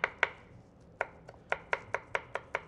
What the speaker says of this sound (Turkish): Ondan sonra da şu şekilde ufak ufak doğruyoruz.